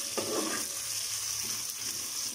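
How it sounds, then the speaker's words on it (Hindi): Ginger garlic paste frying in a pot for biryani makes a soft, steady sizzle with a brief burst of stirring near the start, quiet and without talking. "ये मैंने लहसुन अदरक का पेस्ट डाल दिया एक दो सेकेंड इसको हल्का सा भूनेंगे"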